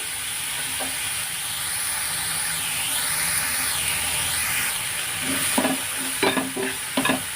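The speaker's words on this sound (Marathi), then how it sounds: "त्यानंतर घालायचं आहे पिझ्झा सेन्स सर्व मसाले घालून मशरूम व्यवस्थित परतून घ्यायचं" Mushrooms sauté in a pan with pizza sauce and spices, giving a steady sizzle and hiss while a spoon stirs and scrapes, with a few sharper clinks of the utensil toward the end and no talking.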